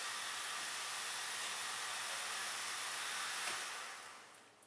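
An Eriez EZ Tec metal detector conveyor runs with a steady, broad airy whir like a blower, holding even and fairly faint before tapering off near the end.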